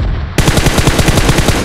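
Rapid, loud bursts of automatic gunfire in PUBG Mobile in quick succession, a continuous rattling spray of shots up close.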